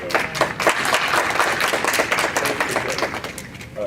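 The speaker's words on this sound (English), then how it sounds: "Let's give them a round of applause." An audience claps in a dense, fairly close burst that lasts a few seconds and slowly thins toward the end.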